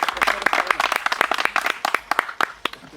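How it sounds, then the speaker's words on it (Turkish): Applause for health workers comes as sharp, irregular hand claps from a small group, close and fairly loud. "Bir alkış sağlıkçılarımıza alalım."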